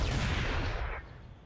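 Turret gunfire in the Halo level Assault on the Control Room on Legendary difficulty: a dense, continuous burst of booming shots that fills the first second, then drops to a quieter rumbling tail.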